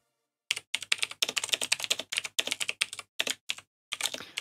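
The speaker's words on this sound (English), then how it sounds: "I'm just typing to Sebs to make sure that he knows what his" Someone types quickly on a computer keyboard during a gaming tournament stream, the close, crisp keystrokes coming in rapid bursts separated by short pauses.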